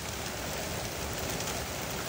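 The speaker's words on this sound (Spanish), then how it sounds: "Miren cómo estamos por aquí con la lluvia" Steady heavy rain pours over a golf course, a dense, even hiss of drops on surfaces filling the whole stretch, close and constant with no voices.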